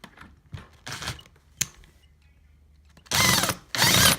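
A few light knocks and clicks are followed by two loud, sharp bursts of a power drill whirring close by, driving screws into plantation window shutters.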